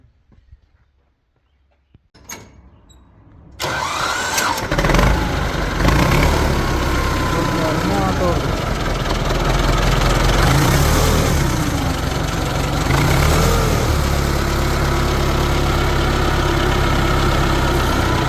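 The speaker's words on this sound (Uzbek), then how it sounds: "Endi sizlarga bitta traktorda ovozini yurgizib, eshitkizib beraman, ko'rasizlar." A T-28 tractor engine turns over after a brief quiet start, catches with a loud clatter, and settles into a steady, rough, close-up idle that runs on continuously, with a faint voice early on.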